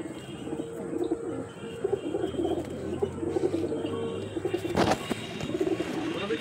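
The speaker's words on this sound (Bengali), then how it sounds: "এটা নর পায়রা, এই মাদিটা দেখাচ্ছে" Madrasi pigeons, a male and a female, coo in low repeated phrases close by, with a steady background hum and a brief sharp rustle partway through.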